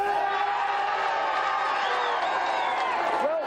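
A studio audience at a team gaming championship cheers and whoops for a team, a steady, loud wall of crowd noise that holds evenly throughout.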